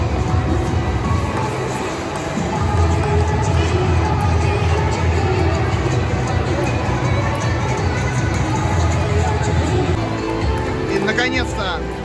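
Crowd gathering in a shopping mall for a table tennis master class, a busy indoor murmur of many voices with someone talking over it.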